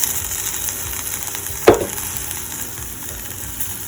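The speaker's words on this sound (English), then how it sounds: "So put in the soy sauce" Soy sauce hitting a hot pot of kimchi jjigae gives one sudden sharp sizzle burst, then settles back into a steady low frying hiss.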